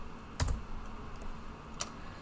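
Computer keyboard keys clicking in a few brief, sparse taps, close and fairly quiet against a low background hum.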